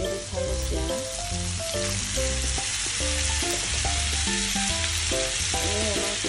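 Finely sliced tomato fries in a pan for a spaghetti sauce, a loud, continuous close sizzle with steady crackle, and background music playing underneath throughout.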